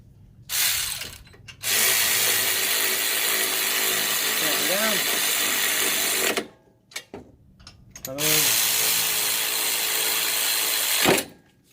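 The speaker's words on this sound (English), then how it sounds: "Take my Harbor Freight Earthquake." A Harbor Freight Earthquake impact wrench tightens brake bolts on a Toyota Matrix, loud close rattling hammering in two long bursts of about five and three seconds, separated by a short pause, with a brief clatter between them.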